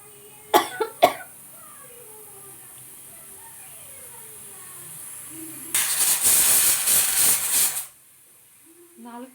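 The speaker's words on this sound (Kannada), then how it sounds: "ನಾಲ್ಕು ವಿಜಿಲ್ ಆಯಿತು." A pressure cooker cooking mutton on a stove lets out a loud hissing whistle of escaping steam lasting about two seconds, after a couple of brief coughs and faint background sounds.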